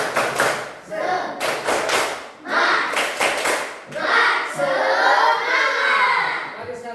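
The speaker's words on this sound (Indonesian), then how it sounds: "Kita tepuk semangat dulu." Children in a classroom clap a rhythmic group chant in quick bursts of sharp, unison claps separated by short pauses, with shouted voices mixed in near the end.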